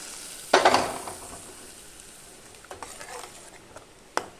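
Fried onion tempering hits a pot of curry with a sharp, loud burst of sizzling that quickly fades to a gentle crackle, followed by a few light clinks of a utensil against the pan.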